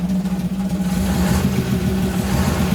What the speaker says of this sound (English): That, my friends, is a Gardner 6LW engine.